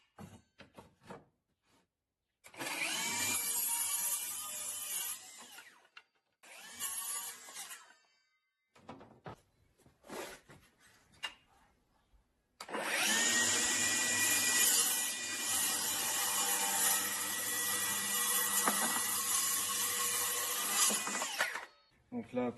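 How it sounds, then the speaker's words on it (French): Milwaukee M18 Fuel cordless circular saw cutting first 22 mm plywood along a guide rail, then solid oak: loud whining bursts of cutting separated by quiet gaps and handling sounds, ending in one long sustained cut. "je vais d'abord vous couper avec la règle du contreplaqué de 22 mm et ensuite je vais vous couper du chêne massif"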